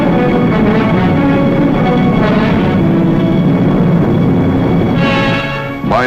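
Army bomber aircraft flying over during a 1943 WWII Pacific amphibious operation, a continuous heavy droning engine roar filling the scene at steady loudness, with a brief rising mechanical whine near the end.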